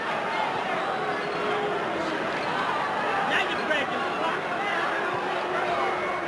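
A boxing arena crowd murmurs in a dense, steady hubbub during the Mike Tyson vs Tony Tucker fight, a continuous wash of distant chatter with no distinct voices standing out.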